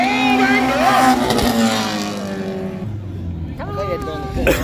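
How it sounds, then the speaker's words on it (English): Race cars from a Renegades bump-and-run race at Sandusky Speedway roar off turn four, engines sweeping past with rising and falling pitch under a track announcer's loud commentary. "Here they come off of turn number four, it is all Mikey Oldenburg."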